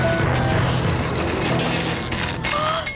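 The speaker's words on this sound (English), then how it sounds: "The cake broke the machine." A cartoon science-test machine gives way under an impossibly strong fudge cake, a dense mechanical crash with ratcheting, grinding metal and scattered smashing clatter that stays loud for three seconds before cutting off.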